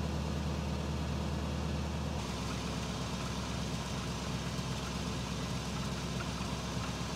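A Toyota Tundra's 4.7 engine idles steadily and close, a continuous low rumble with a faint knocking texture, no voices over it.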